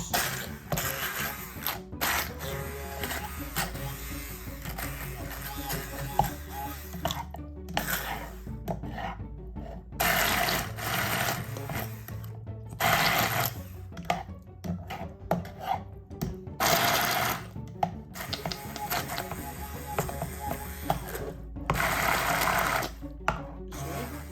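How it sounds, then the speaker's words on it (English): Cooked asparagus is ground into a smooth sauce for an Italian-style risotto, giving a quiet, rough, rasping whir that keeps rising and falling in bursts with brief gaps. "So now to proceed to grind to create a sauce."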